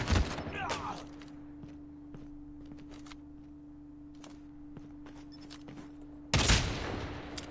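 Gunfire in Call of Duty Mobile during a gun game match: scattered sharp shots and footsteps, then a loud burst of fire near the end.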